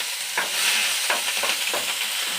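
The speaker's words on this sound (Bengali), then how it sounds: "আগে তেলটার মধ্যে আদা রসুন কোচানো ওইটা দেবো" Chopped ginger and garlic fry in hot oil with a loud, bright sizzle, broken by several sharp stirring scrapes in quick succession; nobody speaks.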